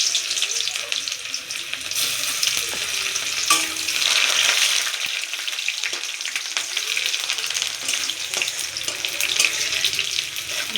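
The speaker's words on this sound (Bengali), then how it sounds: "আমাদের তেল গরম হয়ে গেছে। এবার আমরা রসুন কুচি দেব।" Chopped garlic frying in hot oil in a wok for an egg tarka, a loud close crackling sizzle holding steady for several seconds with occasional scraping stir sounds and small knocks, and no one speaking.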